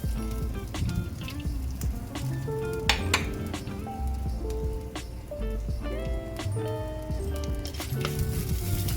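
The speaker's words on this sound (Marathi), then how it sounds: "छान फ्राय करून घ्यायचं आहे." Cumin, bay leaf, cinnamon, ginger and garlic sizzle in hot oil with a steady, quiet crackle and spatter that runs unbroken throughout.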